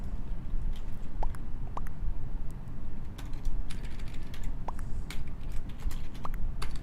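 Clicky keystrokes on a computer keyboard patter steadily with irregular taps against a constant low background hum, fairly close and moderately loud, with no voices.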